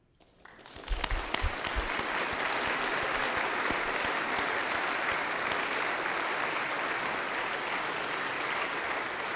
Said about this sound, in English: You can clap more later.